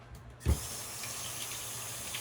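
Hot water runs from a kitchen tap for handwashing while bread dough is being prepared. A brief gush at the start settles into a steady, even hiss of flowing water with no voices.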